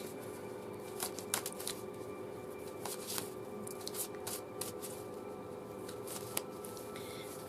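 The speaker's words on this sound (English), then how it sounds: "So I'll just give this deck a last minute shuffle as usual" An oracle card deck is shuffled close up, with repeated riffling and crisp card snaps over a steady faint background hum.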